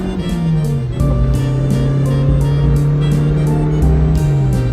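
A car engine with a snapped accelerator cable, worked by a makeshift hand throttle, idles loudly and steadily, then steps up to a higher, sustained drone that dips slightly near the end, with no voices.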